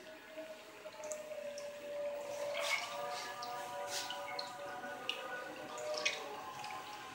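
Water drips and trickles steadily as cooked turnips are squeezed out by hand in a kitchen, a soft, close, continuous patter with small splashes.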